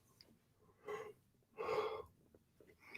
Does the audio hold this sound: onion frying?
no